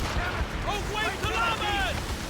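Ship cannons fire in a naval battle in Assassin's Creed Rogue, with deep booms and rumble rolling under shouted crew voices and background game noise.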